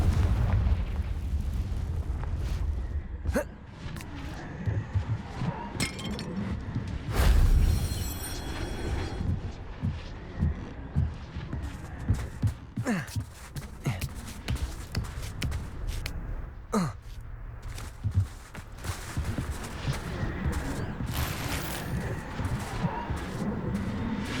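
Explosive Confringo spell blasts in the Hogwarts Legacy video game, a few loud booms and crackling bursts over a constant rumbling game soundscape with footsteps and combat noise.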